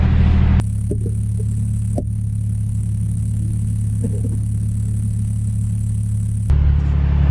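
Toyota JZX110 Mark II at a Lakeside sprint, a steady low engine hum and rumble heard from inside the car, constant and droning throughout with a couple of faint knocks.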